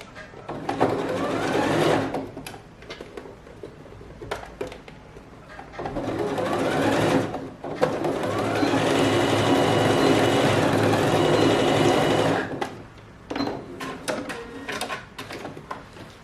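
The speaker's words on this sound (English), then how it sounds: "So I'm just trying to overlap it to stitch it, and you back stitch it very well." A sewing machine runs in close, steady bursts while stitching overlapped dress fabric during an alteration, with a long continuous run in the middle and shorter starts and stops around it.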